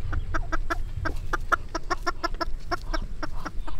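Chickens on a farm cluck in a quick, busy series of short calls, fairly close, with no talk.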